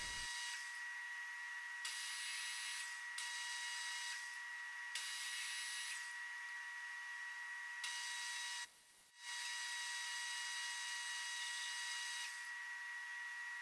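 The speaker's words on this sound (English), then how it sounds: "I started by cutting threads on the chamber end of a 12-gauge barrel blank" A lathe or machine cuts threads on the chamber end of a 12-gauge shotgun barrel blank, a steady high-pitched whine that runs continuously, with a brief drop partway through.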